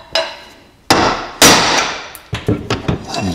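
Sharp metallic hammer strikes on a punch set against a brake rotor rivet on a BMW K75 motorcycle, with a few single heavy blows followed by a quicker cluster of lighter taps, close and loud.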